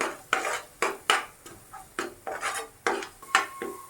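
A spatula clinks and scrapes against a pan as asafoetida and turmeric fry in oil, about a dozen sharp, irregular strokes with a faint sizzle underneath at moderate volume.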